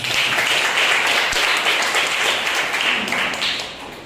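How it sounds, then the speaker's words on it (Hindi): A church congregation applauds at a Sunday service, a dense, steady wash of clapping that holds loud throughout and eases off slightly at the end. "उस जीवित परमेश्वर के लिए एक जोरदार तालियां हो जाए।"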